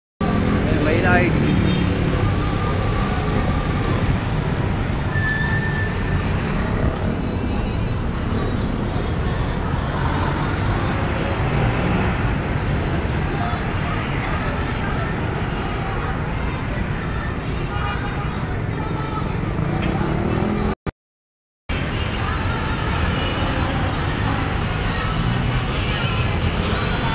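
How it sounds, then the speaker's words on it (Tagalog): Heavy road traffic streams around the Bonifacio Monument roundabout in Caloocan City, a continuous loud wash of cars, buses and trucks with faint background voices. The sound cuts out briefly near the end. "Dito yung maikot yung mga sasakyan."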